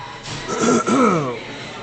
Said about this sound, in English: I gotta clear my throat for everybody that listen to me